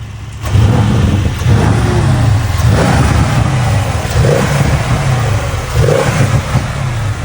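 A 500+ hp AMG car in Sport Plus mode accelerates hard at night, its engine roaring loud and steady from close by with rising and falling revs through gear changes.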